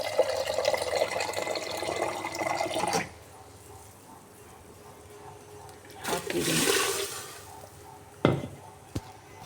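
Water pours and splashes into a cooking pot of avarekai (hyacinth bean) sambar for a few seconds, stops, then a second brief gush follows, ending with a couple of sharp knocks.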